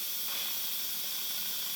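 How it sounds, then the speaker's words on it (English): Steam hisses steadily out of an Instant Pot on quick release while chicken burrito bowl filling cooks inside, a loud, constant, bright rushing spray held at the same level throughout with no talk. "We're going to do a quick release. Let all the steam out."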